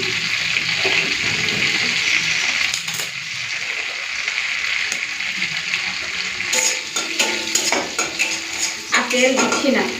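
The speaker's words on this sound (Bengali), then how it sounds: "তেলের মধ্যে একটুখানি ফড়ন দিয়ে দেবো তেজপাতা শুকনো লঙ্কা গোটা দিয়ে" Bay leaf and whole dried red chillies tempering in hot oil in an iron kadai give a steady bright sizzle, with clinks and scrapes of utensils growing busier toward the end. The sound is close and there is no talking.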